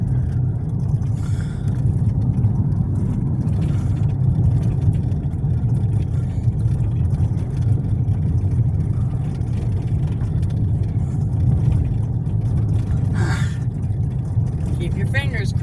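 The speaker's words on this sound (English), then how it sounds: "Oh, the truck cutting the grass up here." A grass-cutting truck working near a railway crossing rumbles steadily as a continuous low engine drone throughout, with people chatting over it.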